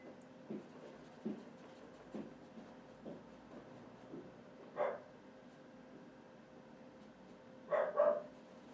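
A small dog barks in the distance, a string of faint, evenly spaced yaps followed by a couple of slightly louder barks near the end, with no talk over them.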